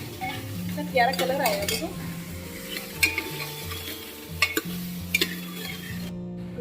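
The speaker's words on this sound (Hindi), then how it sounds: "मैं सारा मसाला एक साथ डाल दूँ मैंने इसमें, मिक्स कर दूँगी।" Masala being stirred into a dish in a pan, with a steady sizzle of frying under scattered clinks of a spoon against the pan; someone speaks over the cooking.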